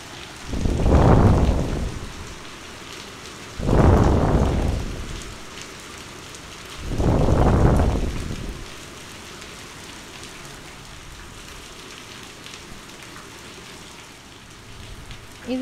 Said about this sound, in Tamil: அதே மாதிரி 3 மணிக்கு நல்ல மழை